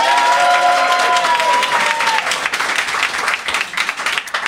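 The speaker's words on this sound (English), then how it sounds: "give us a cheer now" Studio audience at a comedy panel show applauding and cheering to award points, dense clapping with a voice fading out at the start.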